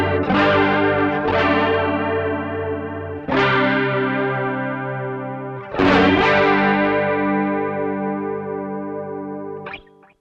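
A Behringer Chorus Symphony pedal in buffered bypass swirls over sustained, shimmering guitar chords, with a new chord struck every few seconds and a warbling chorus sound throughout, no voices.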